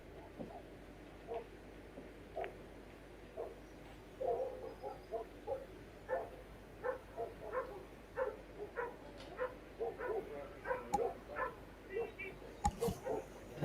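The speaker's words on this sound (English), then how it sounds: "Are there dogs having a fight outside your house, Benjamin?" Dogs barking and yelping somewhere outside, heard faintly from a distance as a quick, irregular string of barks and whimpers during a women's 9-ball pool match in Vietnam, with talk in the background and a sharp knock near the end.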